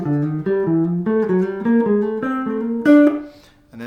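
Piano plays a run of paired notes in thirds, each approached from a half step below, a steady stepwise sequence of crisp chords over about four seconds ending on a ringing final chord.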